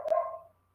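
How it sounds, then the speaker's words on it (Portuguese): A single short dog bark, faint and somewhat distant, with a brief tonal ring fading out over half a second before near silence. "O cachorro está latindo"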